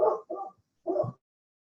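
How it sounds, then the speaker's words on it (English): A pet dog at home gives three short, muffled barks, two in quick succession, then a pause before a third. "Sorry guys, my dog's barking."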